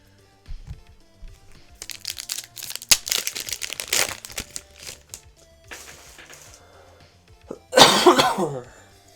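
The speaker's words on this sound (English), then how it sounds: "Sorry, I still have a little bit of a cough." A person coughs several times in short bursts with crinkling and shuffling of card packs in between, ending with a louder, harsher cough near the end.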